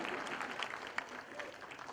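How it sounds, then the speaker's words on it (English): An audience at a 2018 induction program claps for BITS Pilani, a steady wash of many hands filling the room for two seconds at moderate volume, with faint voices mixed in. "Yeah, you can clap for BITS Pilani."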